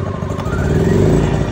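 A portable gasoline generator engine runs right after starting, a close, steady mechanical chugging with rough clattering pulses and no voices.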